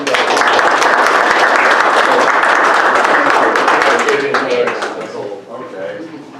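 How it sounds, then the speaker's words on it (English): At a township board of supervisors meeting, a room full of people gives a steady round of applause that holds for several seconds, then thins and fades as voices start talking. "applause for Mike"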